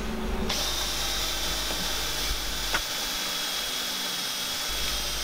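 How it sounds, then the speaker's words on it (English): A power drill driving a 20mm Forstner bit through a wooden board, a steady whining drone that holds for several seconds, fairly loud and close, with no talking. "used a 20mm forstner bit in order to cut it out"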